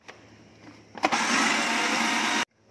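An electric chopper whirring through onions and green chillies, a short tap or two and then a loud steady motor buzz lasting about a second and a half before cutting off abruptly.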